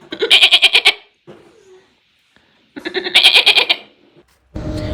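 Sheep bleating on a Polish farm, two loud, close, wavering calls separated by a pause, with fainter farmyard sounds between and a brief noise at the end.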